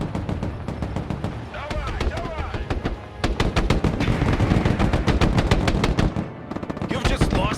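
Bursts of heavy .50 cal machine gun fire rattle in the Broken Arrow war game, with dense rapid volleys repeating loudly over several seconds and a voice speaking through the gunfire.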